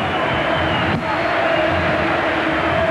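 Banfield supporters roar in the stadium during the Clásico del Sur against Lanús, a loud, steady crowd wash with rising chants and cheering throughout.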